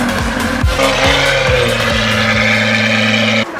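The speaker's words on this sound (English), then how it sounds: "It's a gold Aventador with a Powercraft exhaust system." A gold Lamborghini Aventador SV fitted with a Powercraft exhaust drives by on Tokyo streets, its engine loud and near, droning with rising and falling tones and a few sharp pitch shifts before it cuts off at the end.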